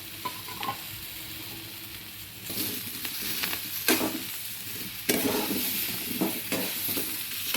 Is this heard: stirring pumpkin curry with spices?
yes